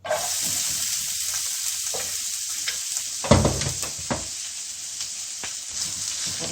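Steady loud sizzling of onions frying in two spoons of oil for potato samosa filling, with occasional stirring clatter and a brief louder hiss partway through.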